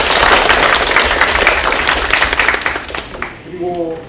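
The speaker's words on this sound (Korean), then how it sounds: "박수로 환영합니다." Audience clapping to welcome a guest at an academic conference in Korea, a dense burst of applause that fades out near the end as a voice begins.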